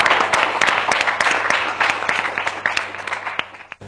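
Party supporters at a political gathering clapping loudly and continuously, a dense crowd applause with sharp individual claps standing out, fading slightly toward the end.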